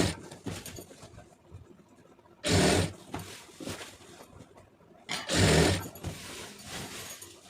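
A sewing machine stitches a fall onto a saree cloth in two loud bursts of rapid whirring, with quieter handling and rustling of fabric in between and no talking.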